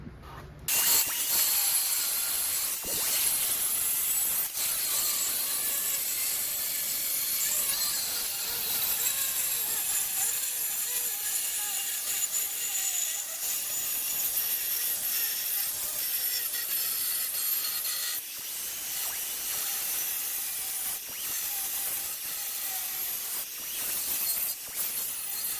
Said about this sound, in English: when you're cutting a curve on a grinder, you can kind of play it a little bit and just ease into it